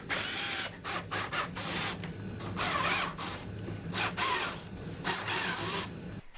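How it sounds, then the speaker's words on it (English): A power drill boring shallow dowel holes into a wooden birdfeeder frame, whirring loudly in repeated bursts with short pauses between holes, close and without speech. "We'll grab a drill bit that matches the diameter of the dowel and drill a few shallow holes."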